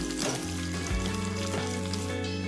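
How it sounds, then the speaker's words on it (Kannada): Chopped almonds, cashews and dry coconut fry in a pan for rice kheer, giving a steady close sizzle under a constant humming drone, with no talk. "2 ಟೇಬಲ್ ಸ್ಪೂನ್ ಒಣಕೊಬ್ಬರಿ ಎಲ್ಲ ಸ್ವಲ್ಪ ಫ್ರೈ ಮಾಡ್ಕೊಳ್ಳೋಣ"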